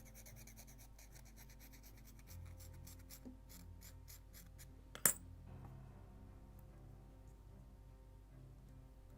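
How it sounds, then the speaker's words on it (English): Quiet, irregular scratching and rubbing of an abrasive on the wooden planking of a model Mayflower ship, with short bursts of strokes and one sharp tap midway. "And just a little more sanding."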